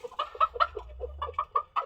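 A young black chicken cockerel clucks close by, a series of short, throaty clucks in an uneven rhythm, with a low steady hum underneath.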